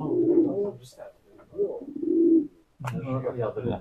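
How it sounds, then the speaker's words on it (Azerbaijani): Pigeon belonging to Emin cooing close by in a few soft, low rolling phrases with short pauses, mixed with voices talking. "Emin qardaşın quşudur"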